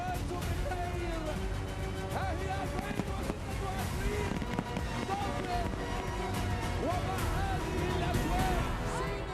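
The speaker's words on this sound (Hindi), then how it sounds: "जबरदस्त आतिशबाजी के साथ नए साल का स्वागत।" New Year fireworks over Lusail Boulevard in Doha, Qatar crackle and pop continuously at a distance, with whistling rockets rising now and then above a constant murmur of a large crowd.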